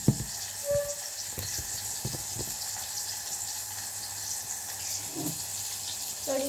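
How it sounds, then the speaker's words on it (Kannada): Curry leaves frying in oil in a pan while making rasam give a steady soft sizzle, moderately close, with a few clinks of a utensil against the pan and no talk. "ಕರಿಬೇವು ಸ್ವಲ್ಪ ನೋಡಿ ಫ್ರೈ ಆಗ್ತದೆ"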